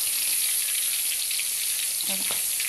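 Spices tempering in hot oil for a dhaba-style garlic and fenugreek curry, giving a steady, close broadband sizzle throughout with a brief spatter near the end.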